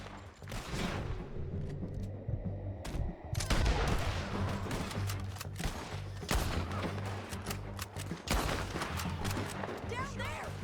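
Gunfire in Red Dead Redemption 2, a dense fusillade of repeated loud shots and cracks from several guns over a low rumbling background, with short pauses between volleys.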